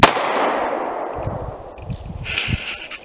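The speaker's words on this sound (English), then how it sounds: "So now we're going to step up our game and go with the 9mm out of this nice Taurus." A single sharp gunshot from a 9mm Taurus pistol cracks loudly at the start, then its echo decays over a few seconds, followed by faint outdoor clatter.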